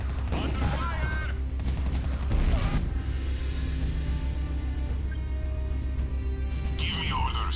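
Gunfire in the real-time strategy game Art of War 3, with dense overlapping shots and booms from a battle. Radio-style unit voice lines and other game voices talk over the continuous firing.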